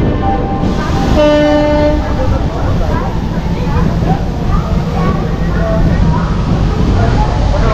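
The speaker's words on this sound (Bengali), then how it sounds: "আমাদের ট্রেন কিন্তু অলরেডি পুরীতে ঢুকছে" The Shalimar–Puri Dhauli Express (12821) pulls into Puri station. A loud, sustained horn blast sounds early, followed by the steady rumble and rattle of the rolling train nearby.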